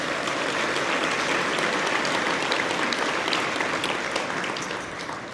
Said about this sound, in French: Mesdames, Messieurs, applaudissons nos partenaires de la catégorie Or.